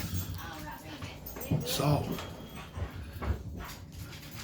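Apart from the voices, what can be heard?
dog whimpering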